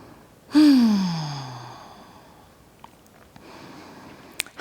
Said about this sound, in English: Return to regular old breathing.